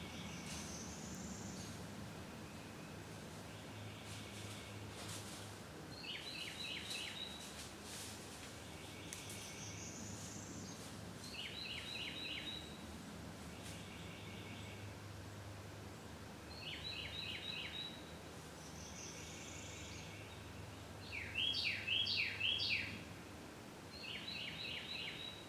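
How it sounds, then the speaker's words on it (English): Birds sing outdoors in a quiet rural area as short, faint repeated chirping phrases spaced every few seconds over a low steady hum, growing a little busier near the end. "I'm hearing all the birds a lot more right now."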